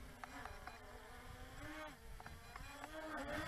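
MJX B3H brushless RC drone with a steady insect-like motor whine that rises and dips in pitch as it flies and flips, continuous and close throughout.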